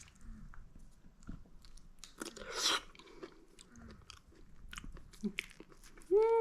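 Someone eats soft, homemade dried persimmon up close, with wet bites and quiet chewing at irregular moments, a slightly crunchier stretch in the middle, and a brief vocal sound at the end.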